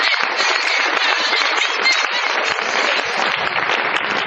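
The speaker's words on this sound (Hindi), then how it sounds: "एक बार जोरदार ताली इनके लिए।" A crowd applauds loudly and continuously at an RCM gathering, dense clapping filling the whole stretch without a break.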